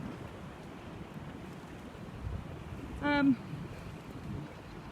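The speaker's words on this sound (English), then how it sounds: "So as you can hear, we've still got the wind." Wind blows outdoors and buffets the microphone as a low, continuous rumble, with a brief high whistling call cutting through it once.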